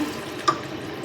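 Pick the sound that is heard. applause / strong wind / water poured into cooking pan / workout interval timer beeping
water poured into cooking pan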